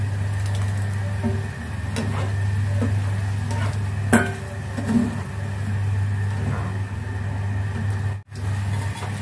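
Tofu goes into a pan of minced-meat sauce seasoned with oyster sauce and soy sauce for Hong Kong-style mapo tofu, cooking with a steady low hum and soft stirring scrapes throughout, without talk.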